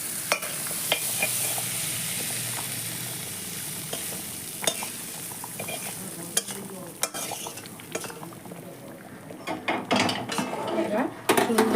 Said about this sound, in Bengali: এবার সুন্দর করে সব কিছু মিশিয়ে দিতে হবে